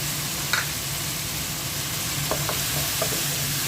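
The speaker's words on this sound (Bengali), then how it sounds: "এখন মশলাটা ভালো করে কষিয়ে নিচ্ছি এখন সিদ্ধ আলুটা মশলার মধ্যে দিয়ে দিচ্ছি" Spice paste and boiled potatoes fry in a pan, a steady low sizzle with a few faint clinks and scrapes of stirring.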